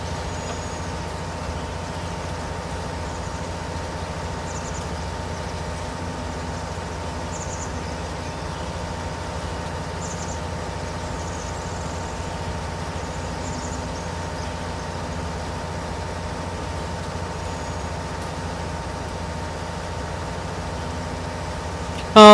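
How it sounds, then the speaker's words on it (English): A tractor in Farming Simulator 2019 labours up a hill with a steady, droning engine hum that holds an even pitch throughout at moderate loudness, ending in a short sharp knock. "Come on, tractor, up the hill you get."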